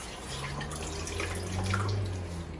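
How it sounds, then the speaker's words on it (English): Water trickles and drips steadily from wrung-out cassava dough, a soft continuous liquid patter close by with a low hum underneath, no voices. "So keep wringing it out until there's no water left."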